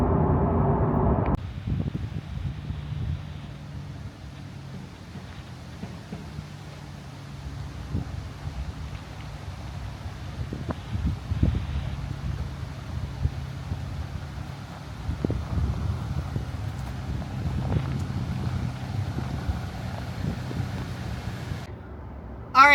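Strong southerly gusts of 40 to 50 mph batter a vehicle on a Kansas highway, a steady roaring buffet with low rumble and rising surges, close and continuous throughout with no talk.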